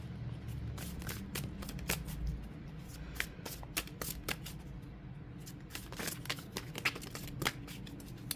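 Tarot cards are shuffled by hand in a continuous, close riffling and sliding patter with crisp card snaps, then drawn, with no talk over it.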